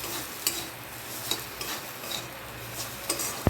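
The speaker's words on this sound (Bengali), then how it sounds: "এবারে ভালোভাবে মিশিয়ে নিচ্ছি।" Ground spices (turmeric, coriander and red chilli powder) are stirred in a pan for an okra-potato curry, close scraping strokes with soft clinks of a spoon over a low sizzle, without talk.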